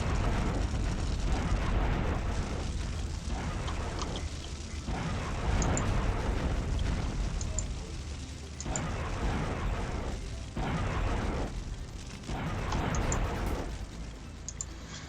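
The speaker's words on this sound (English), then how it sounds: "And now I've got my light cannon joining in the fray." Light cannon fire and explosions during a battle against robots in Space Rangers HD, a dense continuous roar of booming blasts that swell and fade in waves throughout.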